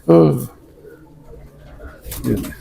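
Pigeons kept by a fancier coo in low, throaty bursts at the start and end, close and fairly loud, with quieter murmuring between them.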